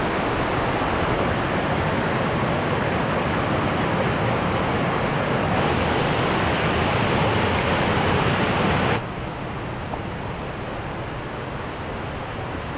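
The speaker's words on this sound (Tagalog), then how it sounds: "At ito nga po ang Bagaw Blue Waterfalls." Bagaw Blue Waterfalls in the Philippines pours with a dense, constant roar of falling water, loud and unbroken throughout, dropping slightly in level near the end.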